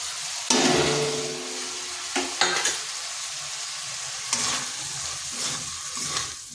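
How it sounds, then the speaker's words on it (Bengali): Diced potatoes are stirred with spices in an oily wok, giving a steady close sizzle broken by several sharp scrapes and clatters of a spatula against the metal. "আলুটা বেশ ভালো করে এই মশলার সাথে কষিয়ে নিচ্ছি।"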